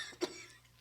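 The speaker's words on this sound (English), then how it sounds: "I've got a terrible cough and cold" A single short cough from a person with a heavy cold, faint and isolated against quiet background noise.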